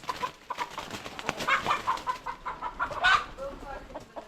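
Chickens perched in trees cluck and squawk from above amid outdoor ambience, scattered calls overlapping at moderate distance, with a louder burst midway.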